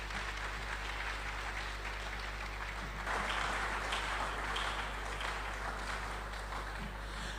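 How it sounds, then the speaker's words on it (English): Audience clapping in a great hall follows an introduction at a youth event, sustained and fairly distant under a low steady hum, swelling a little midway and continuing evenly without voices. "Another round of applause for Honorable Kennedy Agyapong"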